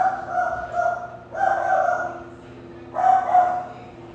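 A dog barks indoors as people arrive at the door, giving three separate bouts of yappy, whimpering barks at moderate distance with quieter pauses between them.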